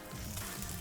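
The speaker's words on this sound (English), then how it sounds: "In goes the first of our arancini burgers. Nice little bit of sizzle." A large vegan arancini burger sizzles in hot oil in a pan, a soft, steady frying crackle heard briefly and faintly.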